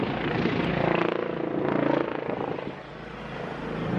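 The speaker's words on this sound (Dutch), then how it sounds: "Gewoon, hij maakt cirkeltjes de hele tijd." A helicopter circling overhead in a Dutch residential area, a broad droning rotor and engine rumble that swells and dips slightly as it moves, fairly prominent and continuous.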